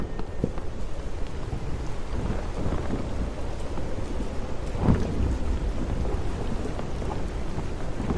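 Steady heavy rain pours throughout with a low rumble of thunder, one sharper thunderclap near the middle, during a wild storm at sea; no voices.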